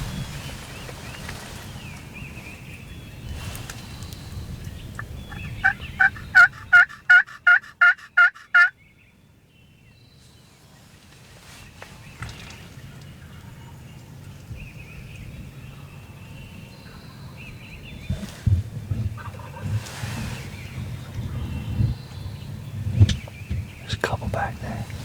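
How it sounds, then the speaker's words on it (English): Wild turkeys gobble in a field during a hunt, with one loud rapid burst of gobbling rising over hushed whispering and soft outdoor ambience. "And they're gobbling good."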